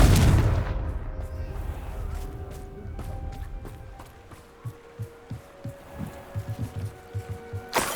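A Confringo spell explosion in Hogwarts Legacy: a loud, heavy boom opens and slowly decays into a rumble, followed by a run of quick rhythmic thumps.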